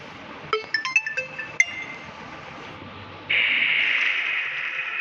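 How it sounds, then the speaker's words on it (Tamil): A mobile phone rings with an incoming call in a home. A few bright chiming tones come first, then a sustained electronic ring starts abruptly and carries on steadily to the end. No one speaks. "ஐயோம்மா ஃபோன் வேறு வந்துச்சு."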